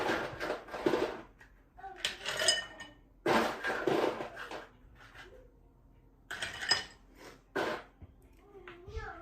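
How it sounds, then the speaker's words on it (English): Ice cubes tumble into a cocktail mixing glass while an Old Fashioned is being made, clattering and clinking in several short bursts, with a person talking between the pours. "we are going to fill this up with ice"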